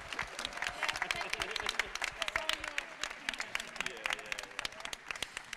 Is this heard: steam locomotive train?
no